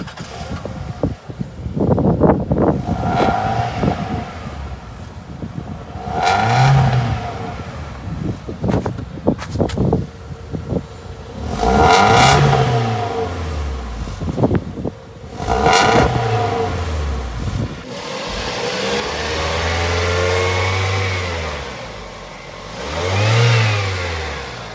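The engine of a first-generation Toyota RAV4 with 350,000 miles idles under the hood, quiet and even, with repeated revs rising and falling and mechanical whirring up close.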